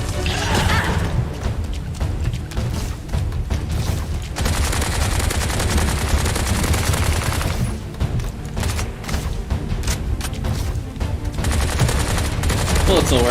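Video game shooting with a jetpack and guns: rapid, dense bursts of gunfire, like machine-gun volleys, sound loud and almost nonstop over chaotic game noise, with only short lulls.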